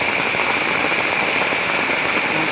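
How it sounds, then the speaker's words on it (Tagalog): Heavy rain pours steadily onto surfaces during flooding that has entered a house below, a dense, loud, unbroken hiss with no voices. "Lakas pa ng ulan."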